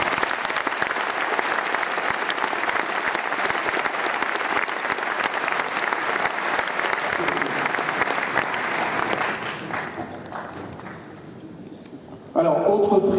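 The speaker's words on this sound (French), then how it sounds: "vous pouvez vraiment l'applaudir" An audience at an awards ceremony applauds a prize winner, dense sustained clapping for about nine seconds that thins out and fades, followed by a voice speaking.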